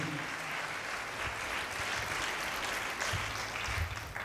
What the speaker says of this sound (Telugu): చప్పట్లు కొట్టి దేవుని మహింపరుద్దాం గట్టిగా.